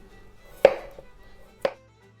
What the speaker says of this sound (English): I've peeled my vegetables, so I'm just going to chop them up